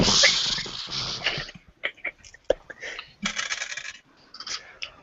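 Three six-sided dice are rolled and clatter in quick, sharp bursts separated by short pauses, close and fairly loud, tumbling and rattling before settling.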